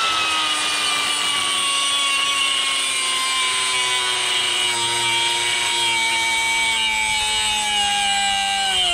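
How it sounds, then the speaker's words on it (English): An air-powered cut-off wheel at high RPM, fed from a compressor tank, whines steadily and loudly through one long continuous cut. Its pitch sags slowly as the tank pressure drops. "we're just gonna see how many cuts this tank will do"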